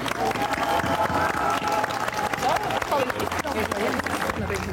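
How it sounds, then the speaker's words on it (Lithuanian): Audience applause rings out at an outdoor 'Lietuvos liepsna' torch relay ceremony in Jurbarkas, a dense, steady clapping wash lasting throughout with a voice speaking over it. "vėlgi aidint jūsų aplodismentams"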